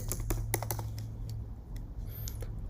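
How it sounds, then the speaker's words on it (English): Rapid typing on a computer keyboard while entering a Python command, with a flurry of quick clicks up front that thin out into sparser, lighter keystrokes over a steady background hum. "let's type in Python monitor data quality"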